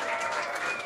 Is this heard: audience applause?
yes